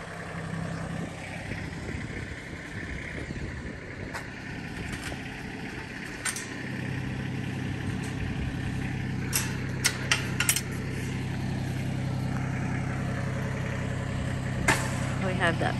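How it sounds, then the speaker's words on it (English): A tractor engine running at a homestead, a steady low rumbling idle close by with some mechanical rattling and a few clicks, a voice talking faintly over it. "Randy's getting ready to do some work with the tractor"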